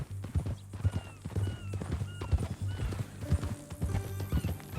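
Horse hooves clip-clop steadily at a walking pace in the Western video game Red Dead Redemption 2, with a whinny rising near the end over faint ambient background.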